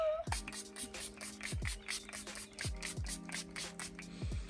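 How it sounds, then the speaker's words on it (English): A makeup setting spray is pumped through its nozzle again and again, each press giving a brief, close hissing burst in a steady rhythm over a low background hum. "It comes with a little nozzle. Let's see what the spray is like."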